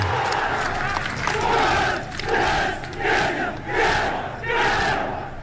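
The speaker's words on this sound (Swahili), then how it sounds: "Tuwape makofi tafadhali." A large crowd cheers and roars at a National Youth Service pass-out parade in Gilgil, Kenya, in repeated loud swelling waves of voices over several seconds.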